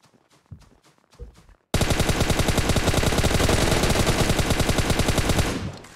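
In PUBG Mobile, a few scattered shots give way to a long, loud, rapid burst of automatic rifle fire lasting several seconds before trailing off.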